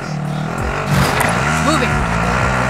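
A vehicle engine hums and revs in a Call of Duty: Modern Warfare match, steady and fairly loud, with pitch rising and sliding as it accelerates, while a voice talks over it.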